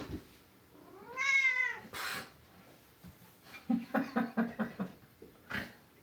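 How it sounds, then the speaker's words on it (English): A needy cat meows close by indoors during a drum lesson, first one drawn-out rising meow, then a quick run of short chirping mews and a final soft sound, with no talk over it. "It's the needy cat today."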